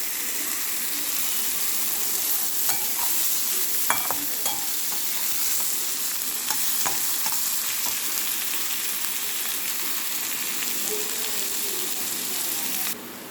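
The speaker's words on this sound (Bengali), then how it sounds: "এটাকে আমি ভেজে ভেজে গোল্ডেন ফ্রাই করব" Food frying to a golden colour in a pan gives a steady, close, even sizzle throughout, with occasional light clicks and stirring taps and no talk.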